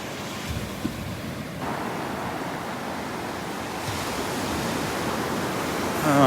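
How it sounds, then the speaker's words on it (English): Small ocean waves wash steadily onto Vanderbilt Beach in a continuous, fairly loud broadband surf hiss with a slight swell toward the end, with no voices. "Loving the sounds of those little waves."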